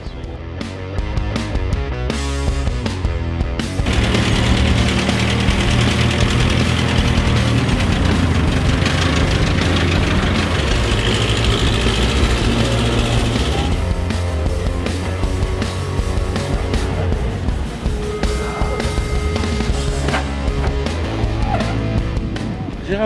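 A 1943 Ford Canada military truck with a V8 engine drives slowly, its steady low engine rumble continuous and fairly loud throughout, with someone talking over it at times.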